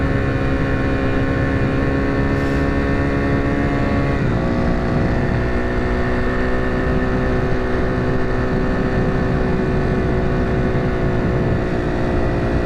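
A motorcycle engine idles steadily and close at a trail-riding stop, a constant droning hum with layered harmonics and a slight pitch dip partway through, with no talking over it.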